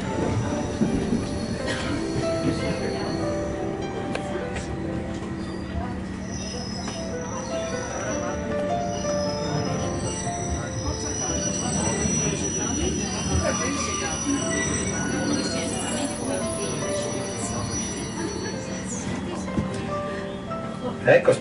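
Bernina mountain railway train in the Alps running near high-altitude stations, with squealing wheels and a steady rumble throughout, heard under a continuous voice talking.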